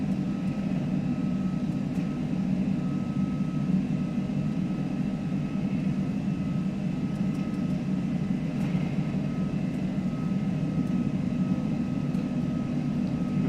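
Airbus A330 jet engines spooling at takeoff thrust in the Prepar3D flight simulator: a steady, loud, continuous roar with a constant tonal whine throughout, no pauses or talk.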